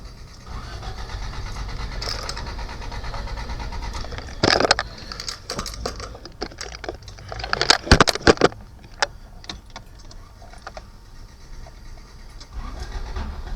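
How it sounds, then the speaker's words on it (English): Fiat Palio fitted with a Honda D15 engine, suspected of a cylinder head leak, starting up: a loud, continuous mechanical rattle with sharp clattering bursts during cranking, settling into a rough, steady running noise. "Car starts up."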